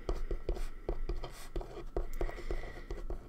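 Handwriting with a pen or pencil on paper, quiet close scratchy strokes coming in short irregular bursts, soft and intimate with no talking.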